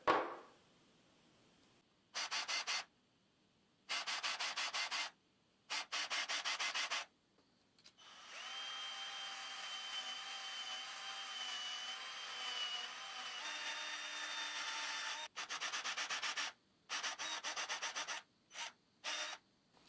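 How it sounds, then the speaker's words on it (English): Drill boring into a 3D printed phone stand part, a series of short high-pitched whirring bursts separated by pauses, with one longer sustained run in the middle, close and clear with no talk. "So I'm going to drill this thing and try to put everything together."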